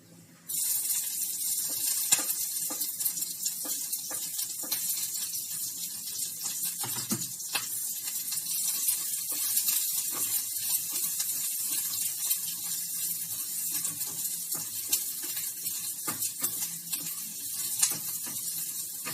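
Green chilli and ginger tossed into hot oil with browned carom seeds in a pan, giving a sudden, loud, bright sizzle that starts abruptly and then holds as a steady close hiss, with no speech.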